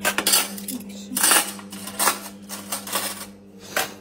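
Metal spoons and cutlery are handled in a home kitchen, clinking and rattling loudly and close in several bursts, with short pauses between them.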